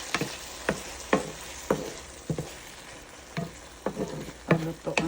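Bitter melon (ampalaya) and eggs are stirred in a frying pan, with about a dozen sharp scrapes and clinks of the utensil at an uneven pace over a soft sizzle of cooking food.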